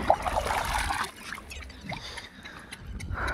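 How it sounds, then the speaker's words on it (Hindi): Water runs through a newly connected pipe as a soft, faint trickle and gurgle over a few seconds. "लग गया नाका, हो गया पानी आगे की तरफ चालू।"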